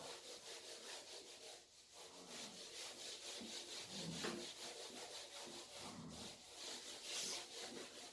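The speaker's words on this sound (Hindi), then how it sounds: "तो इसको मैं रब कर रहा हूं" A classroom board being rubbed clean of writing during a physics lesson, a continuous rhythmic scraping and rubbing of strokes back and forth, close and steady throughout with no talk.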